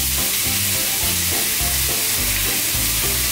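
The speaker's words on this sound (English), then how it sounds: "I'm gonna add the garlic because everything's good with garlic and a little bit of ginger" Garlic and a little ginger sizzle in a hot pan, a loud continuous frying hiss with rhythmic stirring scrapes underneath and no voices.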